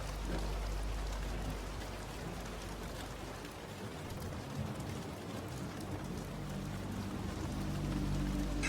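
Steady, dense rainfall with a constant hiss of drops on surfaces and a low rumbling undertone, continuous and even throughout with no voices.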